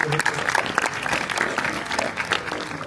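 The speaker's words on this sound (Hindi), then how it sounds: "ताली बजाकर उनका स्वागत करते हैं" An audience at a district-level youth panchayat school event applauds to welcome a new principal, a lively, sustained burst of clapping from a crowd with some voices mixed in.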